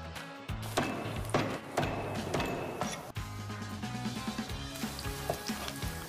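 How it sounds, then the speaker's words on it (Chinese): Ginger slices hit home-kitchen oil heated to about 80 percent, the first step of a rich braised beef brisket, giving a close, steady sizzle that swells in bursts over a backing of music. "咱们油热了以后，先把这姜片搁里头去炸一炸啊"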